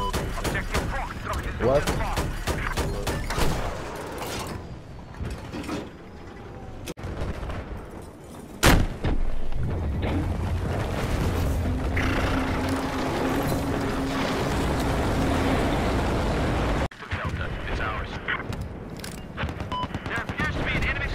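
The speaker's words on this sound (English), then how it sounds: "There appears to be an enemy machine gun operating north of you." Enemy machine gun fire in Battlefield 2042, repeated bursts and scattered shots heard at a distance beneath a steady battlefield din, with people talking over it throughout.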